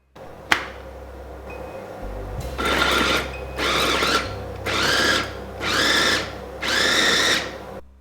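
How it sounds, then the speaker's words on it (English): Food processor chopping onions, carrots and other vegetables in a series of five loud pulsed bursts, each a whirring blade chop followed by a brief pause, close up with no talking. "Add them to the food processor and then chop them away as finely as possible."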